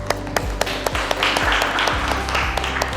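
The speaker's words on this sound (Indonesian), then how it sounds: "Tepuk tangan untuk kelompok 3." Classroom applause for a student group after their presentation, a modest patter of hands clapping irregularly with sharp individual claps standing out over a low background hum.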